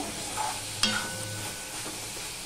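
Okra sabji with no onion or garlic being stirred and fried in a pan, giving a soft, steady sizzle with a few sharp scrapes of the spoon against the pan, close and fairly quiet.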